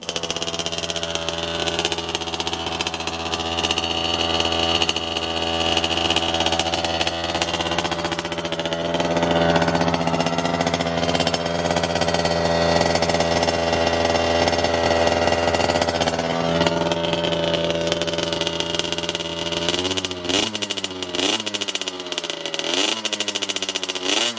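A KTM 50SX Jr dirt bike engine running after a water pump service, a loud buzzing two-stroke idle held steady and close, then several sharp throttle blips near the end.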